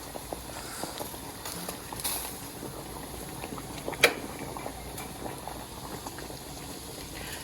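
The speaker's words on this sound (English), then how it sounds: "I'm boiling the bags of butter chicken I got from Aldi that were halal, and they get boiled" Bags of frozen Aldi halal butter chicken boiling in a pot of water, a faint steady bubbling with a soft knock or clunk partway through.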